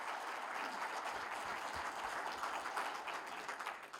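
An audience in a hall gives sustained applause for the Senate chairman at a memorial event for Benazir Bhutto, steady many-handed clapping that holds evenly and tapers slightly at the end.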